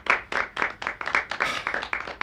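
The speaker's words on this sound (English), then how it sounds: "Round of applause to Nick." A round of applause from a small crowd, a steady run of sharp hand claps filling about two seconds, near and even, with no talking over it.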